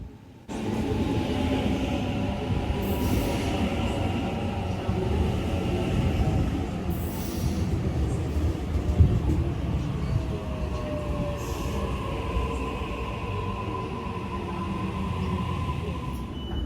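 A Sydney commuter train between Strathfield and Redfern rumbles and rattles steadily along the tracks, with faint squeals and a few brief announcements or voices in the background.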